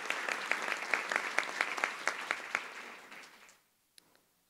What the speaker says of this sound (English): I'm going to clap at that one.